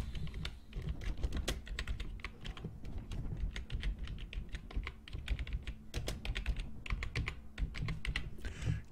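Rapid, uneven keystrokes on a computer keyboard, close and fairly quiet, with brief pauses between bursts of typing.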